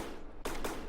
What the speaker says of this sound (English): we have the main cannons are now firing